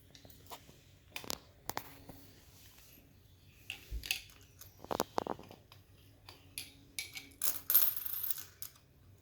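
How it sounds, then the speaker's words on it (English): Pennies from 1982 onward slide a few at a time into a measuring cylinder, giving scattered small metallic clinks and taps in irregular bursts over a quiet background, fairly close but soft. "I'll slide the coins a few at a time."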